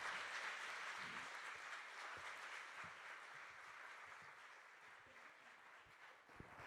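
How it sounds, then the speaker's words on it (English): An audience at a New York Times Climate Hub conversation event claps to welcome speakers onto the stage, a soft, sustained wash of applause that fades slightly toward the end. "please give a very round welcome to and round of applause"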